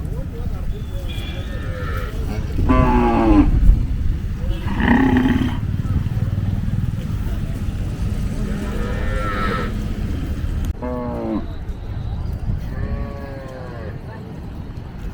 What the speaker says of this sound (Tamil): அங்கே நிறைய கன்றுகள் கொண்டு வந்திருக்காங்க காளைகள் தான் அதிகமாக இருக்குது